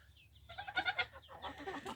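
Chickens cluck on a free-range farm, a close, bright run of several quick clucks and calls lasting about a second and a half.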